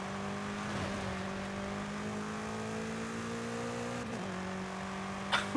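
A BMW M8 racing in Forza Horizon 5, its engine holding a steady high drone with shifts in pitch as it accelerates and changes gear, loud and continuous with a brief sharp sound near the end.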